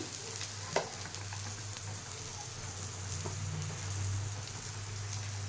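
Food frying in a pan in a home kitchen, stirred occasionally, giving a low steady sizzle with a few soft scraping clinks, faint and without voices.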